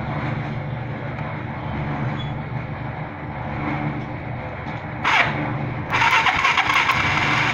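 A UM Renegade 180cc motorcycle with a no-start fault is cranked over, giving a continuous mechanical churn that turns harsher and brighter in two bursts near the end. The sound is close and moderately loud, with no talking.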